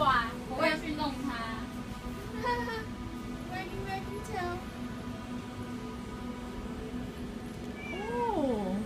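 Several cats meow and caterwaul in a cat store, rising and falling wails repeating close by, with people talking quietly underneath.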